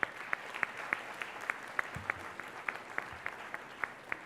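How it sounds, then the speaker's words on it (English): Sparse applause at a university convocation for new graduates, sharp individual claps popping out at an uneven rhythm over a soft wash of crowd noise, moderately loud throughout without speech. "So another round of applause for them,"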